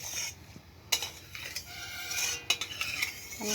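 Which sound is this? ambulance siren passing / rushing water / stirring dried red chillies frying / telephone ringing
stirring dried red chillies frying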